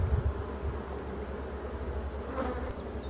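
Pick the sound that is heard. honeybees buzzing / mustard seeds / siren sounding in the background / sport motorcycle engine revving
honeybees buzzing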